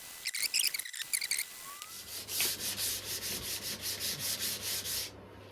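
Wet sanding a 1972 Aston Martin AMV8 cam cover with 600 grit paper: a few quick strokes, then a steady run of rhythmic back-and-forth rubbing, close and clear with no talk.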